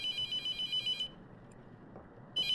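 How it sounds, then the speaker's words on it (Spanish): A telephone rings in a horror video game: one loud electronic ring burst, a pause of near silence, then the ring starts again, close and clear. "el teléfono"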